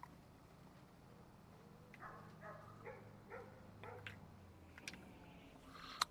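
A dog barks in Farming Simulator 25 on a German farm map. A few faint, distant barks come in short bursts over a low, steady background rumble.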